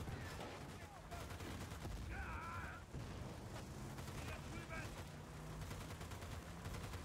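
Dense, continuous rattling gunfire in the video game Battlefield: Bad Company 2 fills the scene, with bursts overlapping amid mechanical noise and a few brief tonal effects, all at a fairly low level.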